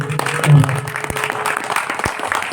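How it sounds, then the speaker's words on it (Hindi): Applause from an audience at a devotional song performance, a short burst of clapping that swells and then holds steady, close and fairly loud. "अपनी अपनी माँ के लिए एक बार जोरदार ताली बजा दीजिए।"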